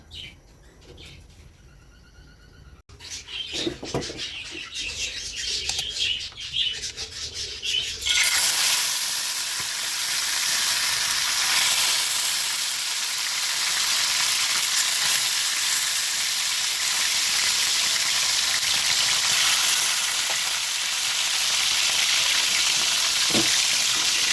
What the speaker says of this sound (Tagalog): pakuluan muna natin yan, luya at saka paminta